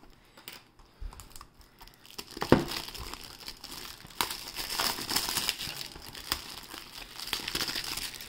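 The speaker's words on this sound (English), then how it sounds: "So got this plastic off." Plastic shrink wrap being torn and crinkled off a Nintendo video game case, a series of close crackling rustles and tearing scrunches, louder and busier in the second half.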